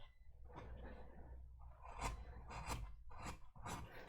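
Rasping strokes of a file or rasp smoothing the surface of a wooden carving, a steady scraping at first that gives way to several louder, separate passes close by.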